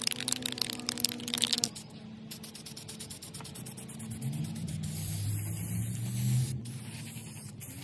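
Red spray paint from an aerosol can being sprayed onto a hummingbird feeder outdoors in a yard, a hissing burst at the start, then quieter rattling, crackling handling and a low rumble.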